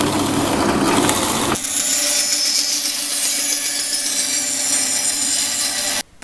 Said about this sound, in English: so I'm going to sand it all off.